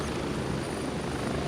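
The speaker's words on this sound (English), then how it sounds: "Did I jump on the wrong helicopter" Helicopter rotor and engine noise from the video game Gray Zone Warfare, a steady loud droning whir that holds evenly throughout with no speech.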